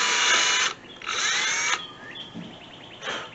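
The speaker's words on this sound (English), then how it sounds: "I'm just going to drill right into the top of this" Power drill boring into the top of a kayak trolling motor part, in two loud whining bursts close by with a pause between, followed by a quieter third burst.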